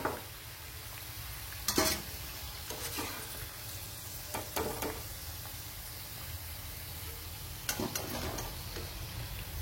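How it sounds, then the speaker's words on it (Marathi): Sabudana vadas deep frying in hot oil, a steady soft sizzle and bubbling with occasional sharp clinks of a utensil against the pan, close and fairly quiet, with no speech. "आता राहिलेले असेच मी तळून घेते."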